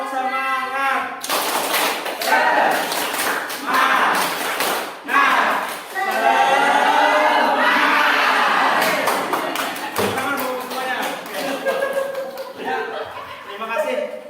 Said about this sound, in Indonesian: mari kita tepuk semangat